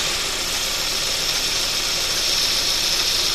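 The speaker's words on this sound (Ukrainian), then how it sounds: "Ось так от працює двигун, стійко, не трусить його." Kia Optima 2015 with a 2.4 GDI petrol engine idling after injector cleaning, heard up close: a steady, even mechanical hum with a fine ticking clatter, constant and loud with no speech.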